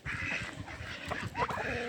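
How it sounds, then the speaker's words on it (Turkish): Free-range laying hens and chicks on a poultry farm give off short clucks and squawks at close range, several overlapping calls over a low, busy farmyard background. "İşte kılavuz yumurtlayan tavuklarım civciv bunlar"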